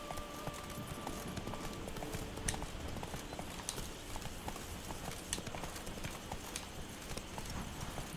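Horse hooves galloping in The Witcher 3: Wild Hunt's Blood and Wine, a fast steady clip-clop rhythm at moderate distance over a soft ambient game background, with no speech.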